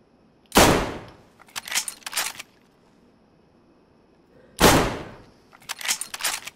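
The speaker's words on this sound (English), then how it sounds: "I just killed two of them. Two shots." Two loud, sharp gunshots in the video game DayZ, each followed by a quick cluster of fainter cracking reports, spaced about four seconds apart with near silence between.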